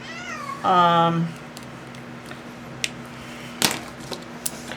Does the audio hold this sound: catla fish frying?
no